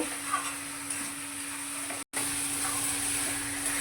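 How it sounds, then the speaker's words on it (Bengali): Poppy seed paste fries in a pan, a steady close sizzle and hiss that runs evenly throughout, with one very brief break in the sound. "এটা দিয়ে একটু ভাজা ভাজা করব যাতে পোস্ত গায়ে গন্ধটা চলে যায়"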